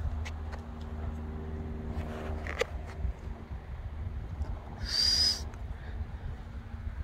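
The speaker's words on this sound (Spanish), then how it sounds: "Mira el águila." An eagle outdoors gives one brief, high, piercing call partway through, heard faintly over a low rumble of passing vehicle traffic and a few soft clicks.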